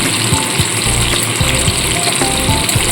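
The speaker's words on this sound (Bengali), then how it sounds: "আলুগুলোকে ভেজে নেব।" Diced potatoes frying in oil with turmeric and salt, a loud, dense sizzle held close throughout, with occasional soft stirring knocks.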